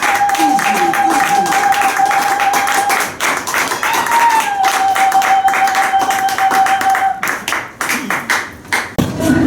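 A ceremony audience claps and cheers in a dense, steady burst of applause for a professor being introduced at a foundation's new-year greetings event, with a sustained whistle-like tone running through and the clapping thinning out near the end.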